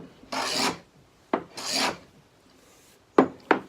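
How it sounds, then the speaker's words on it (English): H.N.T. Gordon A55 smoothing hand plane shaving wood, two long rasping strokes followed by two short sharp swipes, close and fairly loud with quiet gaps between. "Now, I was planing against the grain, hardly even noticed it."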